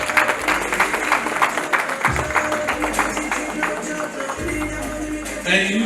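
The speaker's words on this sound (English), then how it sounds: "Round of applause for Dr. and Mrs. Kazim, please." Guests at a school fundraising gala night clap for an honored couple, moderate and steady applause with some talk and background music under it.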